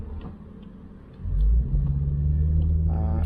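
Jaguar XK8 XKR X100 engine heard from inside the cockpit, a low rumble that swells sharply as the car pulls away and then holds a steady, loud drone.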